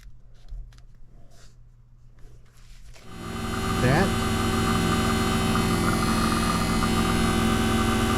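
A vacuum pump pulling a deep vacuum on an HVAC system during an evaporator coil replacement starts up after a few quiet seconds, then runs with a loud, steady motor hum and whine.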